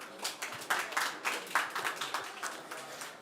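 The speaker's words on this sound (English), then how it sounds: "Please give another big round of applause to our CEO, Jehal Sun." An audience at a blockchain and AI summit applauds for the company CEO, a moderately loud spell of clapping with distinct individual claps standing out in an irregular rhythm.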